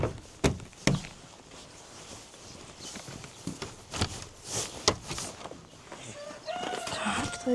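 Chickens and a rooster in a coop during a frosty morning feeding, with scattered clucks and calls, a few sharp bangs and rustling, and a louder crowing-like call near the end.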